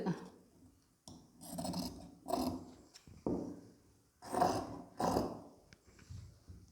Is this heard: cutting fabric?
yes